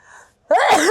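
A single loud, close human sneeze bursts out suddenly after a faint, quiet lead-in.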